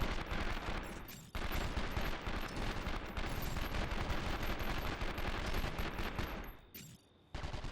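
Gunfire in the video game 24: The Game rattles on almost without pause, a dense, continuous stream of rapid shots that breaks off only briefly twice.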